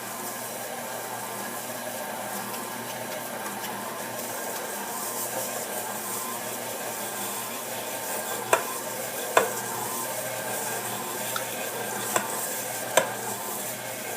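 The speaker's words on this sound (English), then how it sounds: "Now we're slowly going to add our breadcrumbs." Breadcrumbs are slowly stirred into a mixture, giving a soft continuous scraping hiss with a few sharp taps of a utensil against the bowl near the end, no talking.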